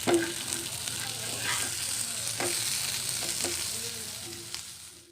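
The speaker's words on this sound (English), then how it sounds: "Our fish fried well." Fish fries in hot oil with a dense, steady sizzle heard up close, broken by a few brief knocks and scrapes, and it fades out at the very end.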